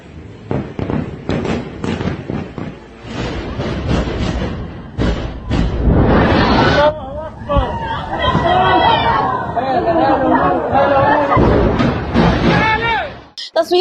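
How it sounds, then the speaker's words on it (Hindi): Bomb explosions in Gaza crack and thump one after another in loud, irregular bursts, with crowd voices and chatter mixed in throughout. "देखिए बम की आवाजें आपको सुनाई दे रही है, एक के बाद एक बम फटते हुए नजर आ रहे हैं।"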